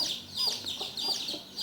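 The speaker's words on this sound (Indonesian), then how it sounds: "sementara ayam ini terus teriak-teriak" A distressed chicken squawking repeatedly at close range, sharp high cries in quick irregular bursts, alone without talk.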